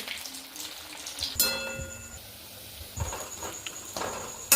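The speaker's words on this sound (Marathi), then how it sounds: "असे एक एक करून मी सर्व गुलाबजामुन तळून घेणार आहे" Rava gulab jamun dumplings frying in hot oil give a steady soft sizzle and patter, with sharper bursts each time another piece is added. The sound is fairly close, and no one speaks.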